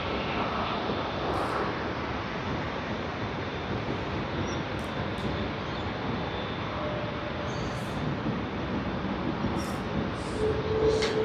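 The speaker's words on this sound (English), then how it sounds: "we can see the Boeing 787-8 Dreamliner coming in from Phuket" A Jetstar Boeing 787-8 Dreamliner arriving at Sydney Airport gives off a steady, broad roar that holds at even loudness throughout, heard from a distance without any talking.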